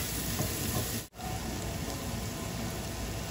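Onions with ginger garlic paste and turmeric sizzle steadily in a pan as they are stirred for a prawn masala fry, a loud continuous hiss broken by one brief dip.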